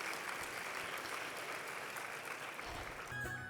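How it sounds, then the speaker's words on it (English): Steady applause from an assembly audience, a dense continuous patter of clapping that shifts near the end as it tapers. "please give yourself a round of applause"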